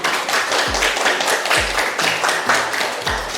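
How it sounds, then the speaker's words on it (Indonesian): Audience clapping after a presentation at an AI introduction session, a group of hands clapping steadily and fairly loudly, interrupted by a few low thumps, with no clear talk. "Oke, kasih tepuk tangan dulu."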